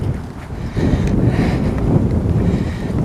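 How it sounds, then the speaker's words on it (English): Wind blows along the Willamette River near a lake, a steady low rumble buffeting the camera microphone, rising in strength partway through and staying loud, with no one talking. "oh, the wind's coming up, guys."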